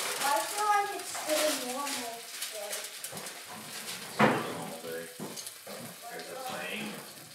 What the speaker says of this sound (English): I could hear it sizzling on the wood stove